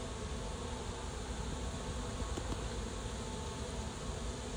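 Honeybees from a swarm of two or three pounds hum in a dense, continuous drone as they move into a top bar hive, the buzzing steady and close with no talk.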